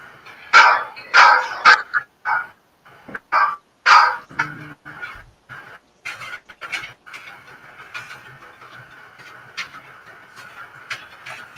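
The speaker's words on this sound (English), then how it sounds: "That did not sound like a happy dog." Dogs bark loudly in a burst of sharp, overlapping barks close by, then settle into quieter, scattered yelps and growling noises as the scuffle continues.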